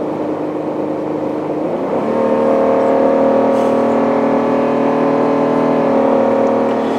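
A Ford F-150 pickup truck engine running on CNG revs up and accelerates, its steady drone rising in pitch and loudness after a couple of seconds, with no talking.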